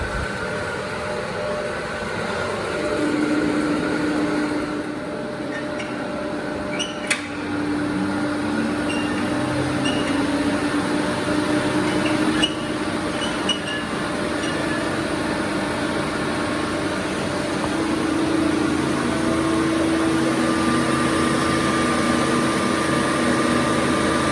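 A DC shunt machine runs while driving an alternator, giving a loud, continuous motor hum with steady whining tones that hold for the whole stretch, with no talking.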